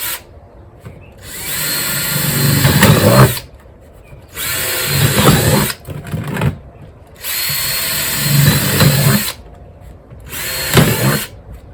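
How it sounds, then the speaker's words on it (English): A power drill bores extra drainage holes through a double-layered plant pot, running in four loud, sustained bursts separated by short pauses. "So this is double layered, so I just went through 2 layers to add extra drainage holes in there."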